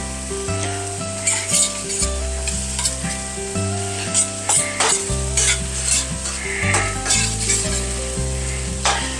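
Shrimp fry in butter in a hot pan with loud, steady sizzling and crackling, punctuated by stirring scrapes, while music plays underneath.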